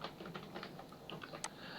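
Keys clatter on a computer keyboard as a word is typed into a new document, a quick run of soft close clicks at low volume with a small sharp tap near the end.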